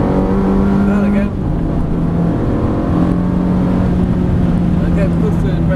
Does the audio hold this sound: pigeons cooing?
no